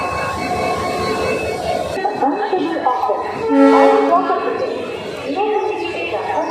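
A train rumbles at a station with squealing wheels and a sustained tonal whine, while people talk nearby over the din.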